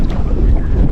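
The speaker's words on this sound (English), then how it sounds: "It's a bit too windy for where we want to go" Steady wind buffeting the microphone with a low rumble as gusts blow across an open fishing boat on the water at Western Port.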